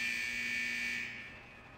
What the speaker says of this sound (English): Those alarms indicate that we're encountering some minor technical difficulties with the fusion press